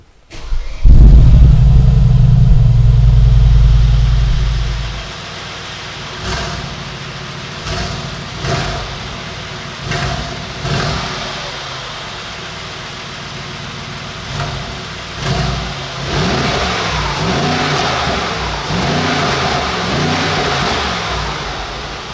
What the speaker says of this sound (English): let's start the engine and we will listen to the sound of this V8 biturbo